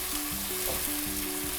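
Chopped tomatoes and onions fry with spices in a pan, a loud, dense, steady sizzle with faint stirring scrapes and a low hum underneath, no talking.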